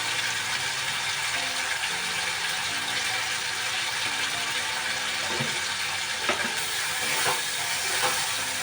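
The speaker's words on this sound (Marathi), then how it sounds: "ते तेलाचा फोडणीचा आवाज आहे ना" Hot oil sizzles steadily as cut potatoes fry in a tempering for upvas parathas, a continuous hiss with a few sharper crackles and clicks toward the end.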